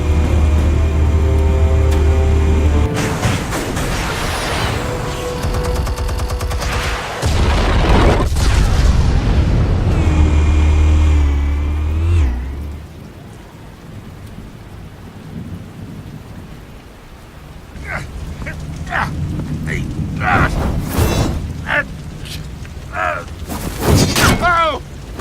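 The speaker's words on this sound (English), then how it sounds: "Explosives armed. Fire when ready." Explosives detonate in a Batman film scene as a run of heavy booms and roaring blasts, followed by quieter rumbling and scattered crackling, then further sharp bursts near the end.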